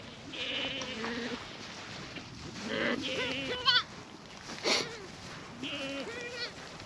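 Kiko goats on a farm in cold, wet weather bleat several times in short, wavering calls spread across the stretch, close and clear over a soft background hiss.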